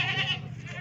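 A black Beetal billy goat gives one loud, close, wavering bleat that lasts just under a second.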